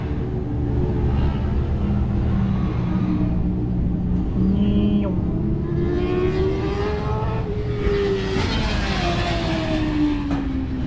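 A race car powers out of the Carousel corner at MSR Houston, its engine note climbing in rising pitch from a distance above a steady background roar of wind and track noise.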